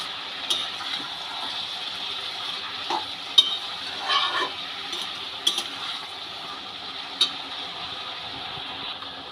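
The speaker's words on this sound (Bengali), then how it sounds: "শাকটাকে সবজির সাথে খুব ভালো করে মিশিয়ে নেব অনেকটাই শাক ছিল নাড়তে নাড়তে দেখো বন্ধুরা শাকটাও কমে গেছে" Note greens (amaranth leaves) being stirred and fried together with vegetables in fish oil, steady soft sizzling with repeated scraping stirs and occasional clinks, close and alone.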